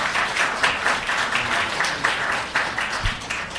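An audience at a city council committee meeting applauds, a steady moderate patter of many hands clapping in a room, with a few louder individual claps rising and falling.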